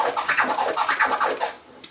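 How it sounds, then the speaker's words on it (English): Turntable wah scratch, a vinyl record worked back and forth under a crossfader in a repeating three-click pattern, giving a quick run of rising and falling swooshes close up, with no talk over it. "Wah scratch sounds like this."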